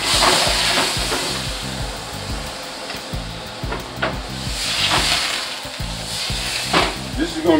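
Butter sizzling loudly in a preheated pan while cooking tacos, a close hissing fry overlaid by a rapid rhythmic low thumping, with no words spoken.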